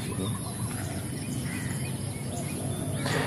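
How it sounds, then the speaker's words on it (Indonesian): A dense, steady chorus of many birds chirping and calling at once in a city, loud and continuous over a busy background hum. "Tuh burungnya banyak banget. Meneriaki saya."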